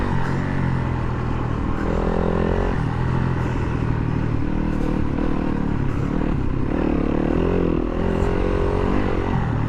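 A 2019 Yamaha WR250F dirt bike being ridden, a continuous loud engine drone with shifting pitch as it revs, mixed with wind rush and occasional rattles close to the rider.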